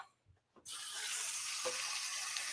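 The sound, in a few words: tap water running while washing a paintbrush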